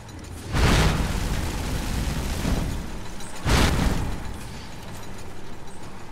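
Two deep booming fire spell explosions in the video game Skyrim, about three seconds apart, each a loud broadband burst trailing into a rumbling wash of noise, with no talking.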